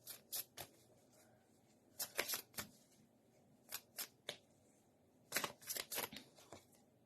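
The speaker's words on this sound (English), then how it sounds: "I'm just giving these cards a bit of a shuffle." Tarot cards are shuffled in a quiet room, giving a series of short, crisp riffling bursts in irregular clusters with brief pauses between them. No one speaks.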